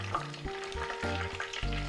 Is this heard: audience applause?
no